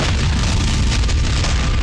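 A film trailer bombing run sets off a dense, loud, continuous rumbling blast that fills the whole sound with no pause.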